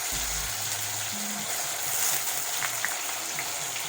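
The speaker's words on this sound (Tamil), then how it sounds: "அதை வந்துட்டு எண்ணெயில் போட்டு நல்லா ஃப்ரை" Blended onions hiss and sizzle in about 50 ml of hot oil with cinnamon, cloves, cardamom and fennel seeds, a steady close frying crackle with no voices.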